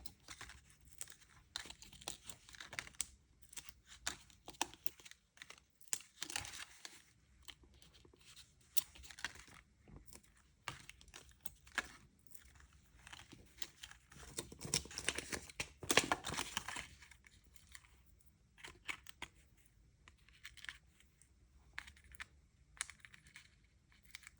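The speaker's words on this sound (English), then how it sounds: "So we're going to fold that in half and then use dimensionals to add our notebook paper to the card." Card paper is folded in half and adhesive dimensionals are pressed on to attach notebook paper to a Christmas card base, giving close, irregular crinkling, tapping and rustling bursts with no talking.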